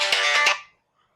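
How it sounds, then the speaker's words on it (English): A telephone ringtone chirps in a short, bright electronic burst of about half a second, with quick pulses inside it, then cuts off into silence. "I should also answer the bloody phone"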